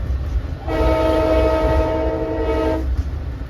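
A loud, sustained Long Island Rail Road locomotive horn blares for about two seconds over the rumble of a passing train at Hicksville station, close by and dominating the scene.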